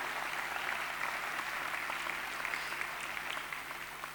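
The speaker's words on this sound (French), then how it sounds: "On peut les applaudir, hein." An audience at a New Year's address by a French mayor applauds, steady moderate clapping heard from within the room, lasting about four seconds.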